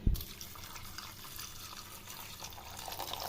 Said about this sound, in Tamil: இதை வந்து இப்போ தேவையான அளவு ஃபஸ்ட் தண்ணி ஊற்றிக்கலாம்.